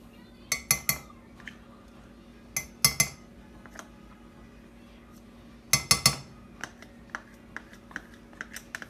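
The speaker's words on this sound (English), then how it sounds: "take like a fork or spoon or something, and you're going to want to scrape out the molasses like this" A metal spoon or fork clinks and scrapes against a container while digging out sticky molasses, irregular sharp taps in small clusters with quiet gaps between, close and fairly faint, no voices.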